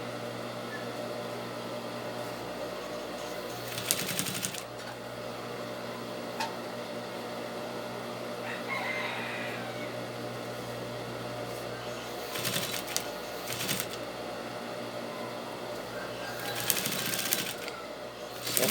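A sewing machine stitches along a folded bias binding strip in steady mechanical runs, pausing between bursts, with a few sharper clicks as the fabric is adjusted.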